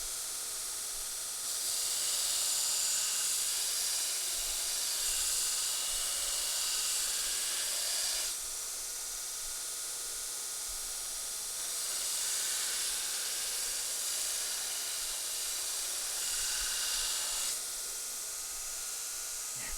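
A belt grinder running a coarse 36 grit belt gives a loud, steady hissing rasp in two long passes of several seconds each, with a quieter idle gap between them and no talking.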